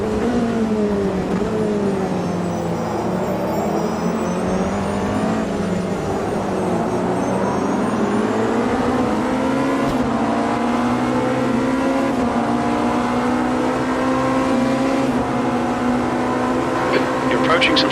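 Race car engines in Automobilista 2 at a six-hour WEC race at Imola drone and rise continuously through gear changes, loud and close, with other cars around and a driver speaking at times.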